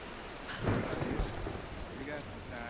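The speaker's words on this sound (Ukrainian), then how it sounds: "Перечекаємо бурю." A thunderstorm in the video game Tomb Raider: a heavy rumble of thunder swells early, then fades under a continuous wash of falling rain, with faint voices in the background.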